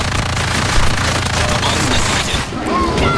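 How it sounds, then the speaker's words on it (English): Dense, continuous gunfire from the sci-fi shooter game Evolve, loud and sustained with a layered, chaotic battle texture that eases briefly near the end before resuming. "I was shooting the wrong monster."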